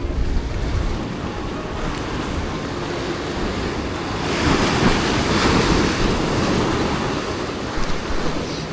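Surf crashes steadily on a rocky shore at dusk during a rainy, windy winter rockfish fishing outing, a broad continuous wash that swells louder midway, with wind buffeting the microphone and no talk.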